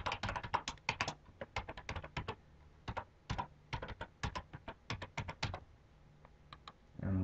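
Rapid bursts of keystrokes on a computer keyboard as a username is typed, crisp close clicks in irregular clusters with short pauses, ending in a brief louder rustle; no voices.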